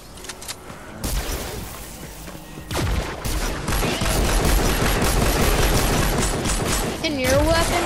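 Rapid rifle gunfire crackles in a video game, starting sparse and then building into dense sustained volleys of shots, with players talking over the action.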